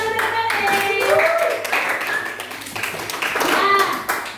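Students in a grade 8 social studies classroom clap for the lesson material, a burst of hand claps mixed with chatter and excited voices from the class.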